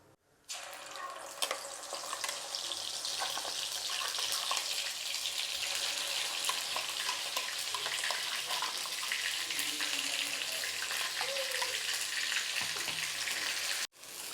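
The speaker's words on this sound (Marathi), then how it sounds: "आता इथे मसाला आपल्याला व्यवस्थित परतून घ्यायचा आहे" Ground masala paste fries in oil in a kadhai with bay leaves, a continuous close sizzle and crackle with scattered pops, steady throughout and without talk.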